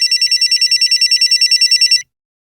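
A telephone bell rings in fast, evenly pulsed trills, loud and clear for about two seconds before cutting off abruptly into silence.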